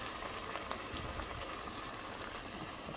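Chicken simmers in chicken broth in a pot on the stove, giving a faint, steady bubbling and light sizzle with small scattered pops and no voices.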